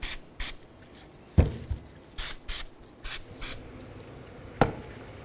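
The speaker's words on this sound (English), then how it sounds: "Let's give these a quick spray down." A spray can gives the cleaned front lower ball joint mounting hardware of a 2004-2009 Dodge Durango a quick spray-down in about seven short, close hissing bursts with brief pauses between.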